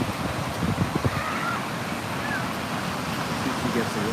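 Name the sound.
ocean waves at a beach surf contest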